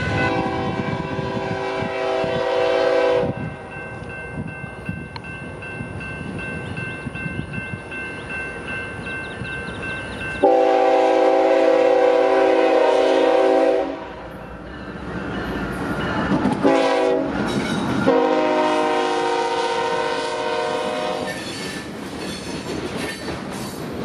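Freight locomotives in Houston, one of them smoking, roar past with loud sustained horn blasts that start and stop several times over heavy engine rumble and rail clatter.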